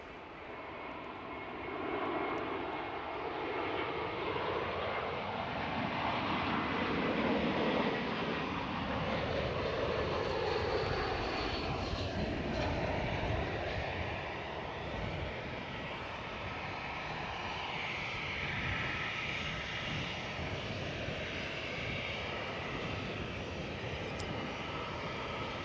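Lufthansa airliner from Frankfurt at Edinburgh Airport, its engines a steady, loud roar throughout, swelling slightly in the middle before settling into a sustained drone.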